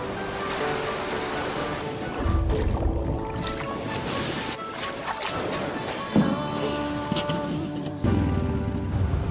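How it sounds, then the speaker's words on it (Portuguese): Sea waves rolling and crashing, a dense churning surge with several louder breaking bursts, heard alone without speech over a steady wash of surf. "O mar é capaz de levantar ondas até 30 metros."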